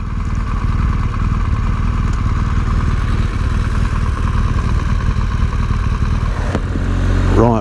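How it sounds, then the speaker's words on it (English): A 2017 BMW R1200GS Rallye motorcycle rides along with its engine running steadily, a loud close throbbing drone that holds an even pitch, shifting briefly near the end. "we'll just try the big GS Rallye around some of these narrower streets and often busy streets in Henley"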